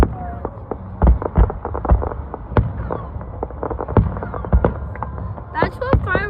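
Fireworks crackle and pop in a rapid, irregular series of sharp bursts at close to middle distance, with people talking and exclaiming over the explosions.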